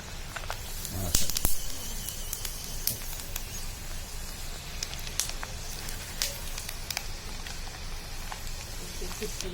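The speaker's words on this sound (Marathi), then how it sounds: "आता आपण इथे शेंगदाणे तळून घेणार आहोत जरासे" Peanuts fry in hot oil for a crunchy poha chivda, giving a steady sizzle with scattered crackles and pops that are busier near the start.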